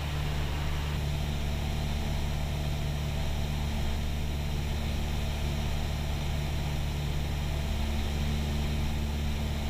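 Steady drone of a Cessna Skyhawk single-engine propeller plane in slow flight while climbing, a constant loud cabin engine hum with no pauses and no voices.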